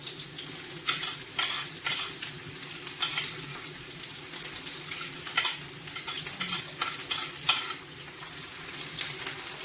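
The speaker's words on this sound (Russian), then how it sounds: "Теперь будем жарить лук, обжаривать лук." Chopped onions fry in a pan with a steady, busy sizzle, broken by repeated scraping strokes as they are stirred, close and continuous throughout with no talking.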